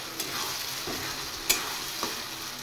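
Onion frying with garlic and ginger paste in a pan, a steady close sizzle with occasional stirring scrapes and clicks, no voices.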